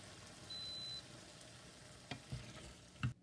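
Aubergine curry stirred in an oily frying pan, heard as a few soft scrapes and clunks of the spoon near the end over a very faint, low background hiss.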